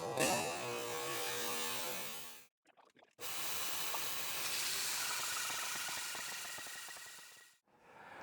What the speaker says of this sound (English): I've never had a bandsaw blade buck on me like that before, and this is definitely the most dense wood that I've ever tried to cut on there